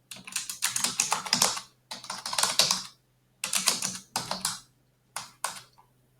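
Bursts of quick, close keyboard clicks as an account name is typed on a computer, coming in four or five separate runs with short pauses between them and no talking.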